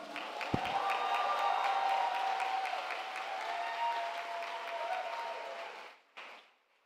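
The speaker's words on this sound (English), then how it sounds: "please a big round of applause for the government whip" Audience applause at a university debating world championship open final in Panama, a steady, dense wash of clapping lasting several seconds before fading and stopping, with a brief burst after.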